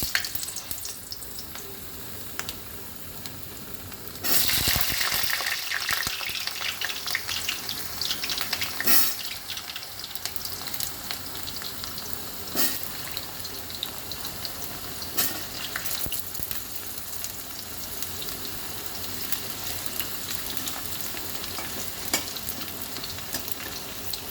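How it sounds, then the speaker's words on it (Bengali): Potatoes fry in hot mustard oil with a steady sizzle and occasional clinks and scrapes of a utensil, a louder burst as they go in, fairly faint and without speech. "রান্নাটা আমি সর্ষের তেলেই করব তেল গরম হয়ে গেছে প্রথমে আলুটা ভেজে নেব"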